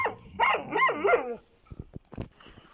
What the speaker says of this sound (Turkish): Bu havlayanlar yavru. O yüzden biraz gürültücüler.